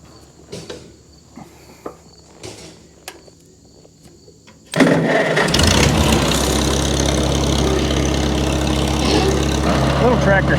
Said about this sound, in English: Little tractor starts right up.